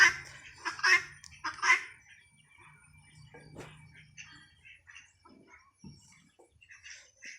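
Native hens and their chicks give loud clucks and calls up close at first, followed by softer scattered chirps and calls.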